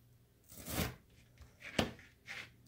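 A knife cuts through fruity Rice Krispies treats in three soft, crunchy strokes, close and fairly quiet, with no talking.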